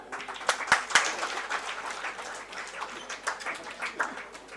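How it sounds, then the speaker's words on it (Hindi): An audience at the curtain-raiser ceremony of the India International Science Festival 2025 claps. The applause is fairly faint and uneven, with distinct individual hand claps popping out of a soft, continuous patter. "जोरदार तालियां।"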